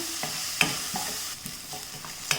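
Onions sautéing in a pan as they are stirred, with a soft sizzle under irregular scraping strokes and a few sharp clicks of the utensil against the pan, close and fairly quiet.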